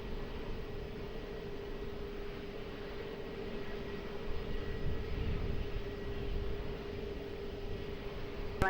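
A jet airliner on approach to runway 20 at Lisbon Airport drones as a distant, steady engine roar with a faint tonal hum, swelling slightly midway, heard alone.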